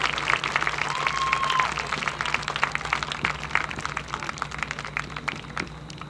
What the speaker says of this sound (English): Big round of applause for our seniors on their senior night.